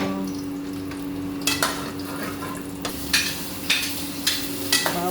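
Garlic, onion and tomato sauté for bitter gourd in a pan with a steady sizzle, broken by several sharp clacks of a utensil stirring and scraping at intervals; no voices.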